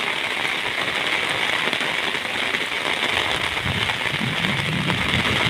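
A steady, dense hiss of rain falls continuously on an outdoor event, with a low rumble swelling toward the end.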